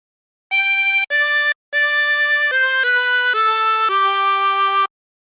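A 20-hole tremolo harmonica plays a short carol phrase of Hark the Herald Angels Sing: about eight sustained, wavering reed notes in a slow stepwise run, close and clear, with no voice.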